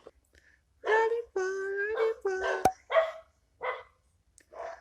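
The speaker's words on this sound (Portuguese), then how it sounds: "é a hora que os cachorros começam a latir sempre" Several dog barks and yips in short bursts, fairly close, with a sharp click in the middle and quiet gaps between.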